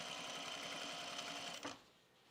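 A sewing machine stitches denim jeans, sewing a flat-felled inseam with a steady, even whirr that runs continuously before slowing and stopping near the end, close and moderately quiet.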